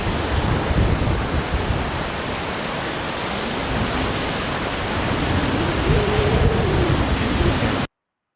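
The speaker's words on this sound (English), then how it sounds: "It's like a mile long and continuous class 4 whitewater" Continuous class 4 whitewater rapids on a Yosemite river roar as a loud, steady broadband rush with no breaks, heard up close and alone until the sound cuts off abruptly near the end.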